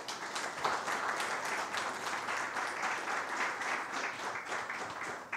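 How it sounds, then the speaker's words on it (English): Steady applause from an audience welcoming guests on stage at a cinema-focused conversation event, moderately distant and continuous with no talking over it. "A round of applause, please."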